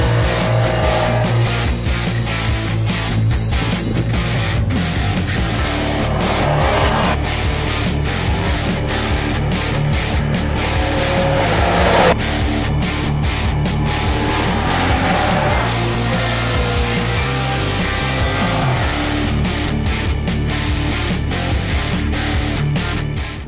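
Yamaha Niken three-wheeled motorcycle ridden hard on a press test ride, its engine revving loudly and steadily up and down through the gears for a long stretch, close and continuous with no talk over it.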